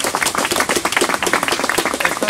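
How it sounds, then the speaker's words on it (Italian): A crowd claps steadily in dense, continuous applause throughout, with no voices standing out. "fategli un applauso"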